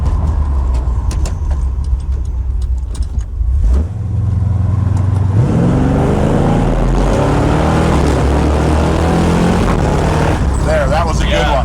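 A car with a Gear Vendors overdrive add-on accelerates hard through repeated gear shifts, engine pitch climbing and dropping in steps, loud and close under cabin noise with some talk.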